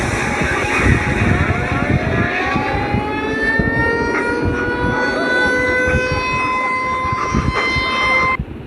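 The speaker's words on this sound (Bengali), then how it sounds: "এখানে সাইরেন বাজতে শুরু করেছে, মানে তোমরা বুঝতে পারতেছো।" A siren wails continuously in a Godzilla versus Siren Head monster scene, its rising tones sweeping upward and holding steady over a dense, rumbling roar that fills the whole stretch at strong loudness.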